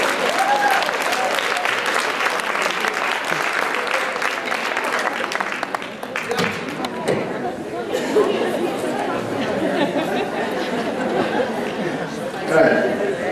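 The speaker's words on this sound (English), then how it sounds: "give yourself the greatest applause" Audience applause at a salon and spa sustainability summit, a long loud round of clapping with crowd chatter and voices mixed in, easing slightly partway through.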